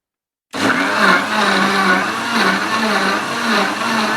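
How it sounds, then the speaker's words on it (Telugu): A mixer grinder whirs loudly after a half-second of silence, its steady motor roar wavering slightly as the blades churn, with no voices. "మిక్సీ కూడా ఇక్కడే తీసుకొచ్చేసా"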